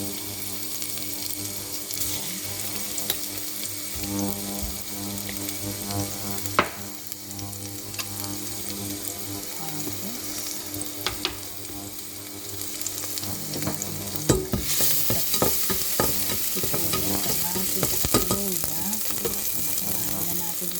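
Chopped garlic frying in hot oil while being stirred: a steady close sizzle that grows louder and busier toward the end, with clattering utensil scrapes against the pan.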